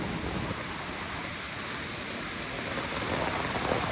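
Heavy rain pours steadily on a monsoon trek at Kudremukh in Karnataka, near a waterfall, a dense, loud and unbroken hiss with no voices.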